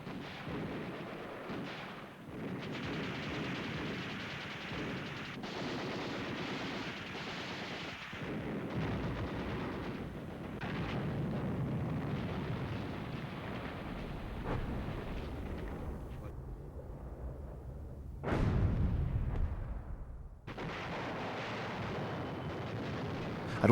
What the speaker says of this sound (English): A heavy intervention from the artillery paved the way for a decisive infantry assault against the hill.